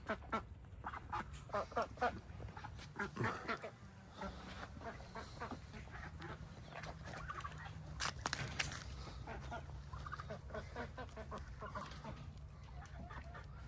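Ducks quack and chickens cluck together near grapevines on a farm, a steady busy chorus of birds at moderate distance with outdoor background noise throughout.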